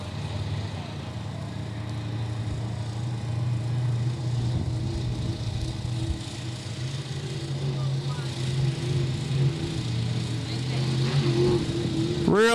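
An APBA inboard racing boat engine on Mott Lake, Michigan, labouring to get up on plane, a steady low droning roar that builds toward the end, with a commentator talking over it.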